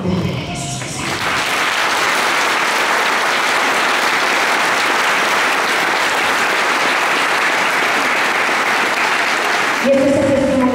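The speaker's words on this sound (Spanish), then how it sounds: "Aplaude a Jesús que salga." Sustained, loud audience applause at a Christian testimony concert, a dense unbroken wash of clapping lasting about nine seconds before fading into a voice.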